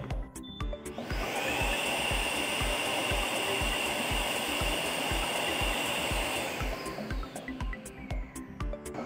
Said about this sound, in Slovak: ak vysávač zapnem